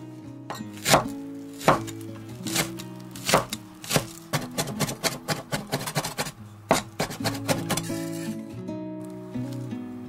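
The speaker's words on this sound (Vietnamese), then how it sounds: "Băm nhỏ một ít gốc hành lá." Close, rapid knife strikes on a wooden board, irregular bursts of chopping taps that speed up in the middle, with no voices.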